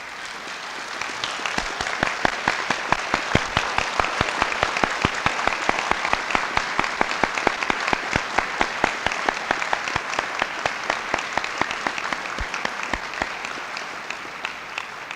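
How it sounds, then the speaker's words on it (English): Sustained applause from an audience at a 1975 homecoming ceremony honoring distinguished alumni fills the hall, a dense, steady clapping that holds at even strength for the whole stretch with no talk over it. "please stand and receive our applause"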